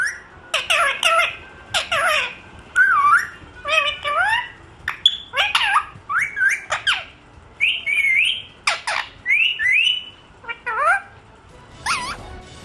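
A pet parrot squawks, whistles and chatters in a quick run of varied calls, close and fairly loud, with brief pauses between bursts and no one talking.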